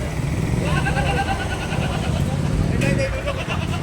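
Goats bleat at the Kundarapalli goat market in Krishnagiri, several short calls repeating under steady crowd chatter and passing vehicle noise, with someone talking close by.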